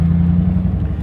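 A Lincoln Aviator fitted with a swapped Mustang GT V8 engine idles close by, giving a deep, steady, throbbing rumble with a slightly lumpy pulse through one short burst.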